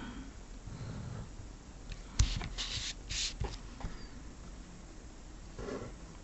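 A pencil draws on a coordinate grid for a GCSE maths paper, with a few quick, close scratching strokes in the middle against a quiet background.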